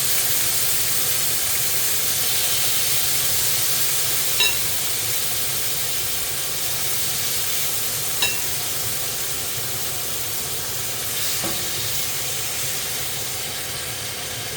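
Lamb steaks sizzle in a frying pan with a constant dense hiss, close and fairly loud, broken only by a few faint clicks.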